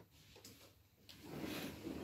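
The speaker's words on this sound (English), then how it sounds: "I'm just going to close the door" An indoor door being pushed closed, with a couple of faint knocks and clicks followed by a soft rubbing, sliding swish at close range.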